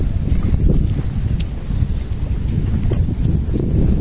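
Outdoors, strong wind buffets the microphone in a loud, continuous low roar that gusts slightly throughout, with no voices.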